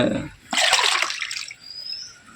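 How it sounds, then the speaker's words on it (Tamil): Oil-cake fertilizer solution is stirred and poured into water for jasmine plants, giving a short burst of splashing and gushing liquid that fades into a trickle. "அதை எடுத்துக்கொள்கிறோம் தண்ணீரில் அப்படியே கலந்து"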